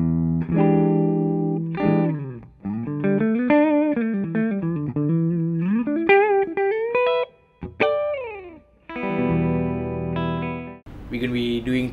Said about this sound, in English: today we are running through my very own Epiphone Les Paul Custom Classic, everything stock, pickups and all, into a Yamaha